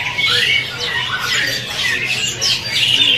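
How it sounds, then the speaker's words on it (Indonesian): A murai pastol bird at a bird market gives repeated harsh, scratchy squawks and chattering calls, loud and close, with faint market noise behind. "Ini murai pastol."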